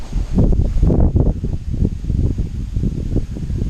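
Wind gusts outdoors in a garden with a walnut tree, buffeting the microphone in a loud, continuous low rumble with uneven surges and a faint rustle of leaves.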